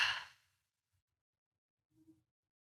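A deep meditative exhale comes as a soft, breathy rush at the very start and fades out within half a second, followed by near silence and a faint low murmur.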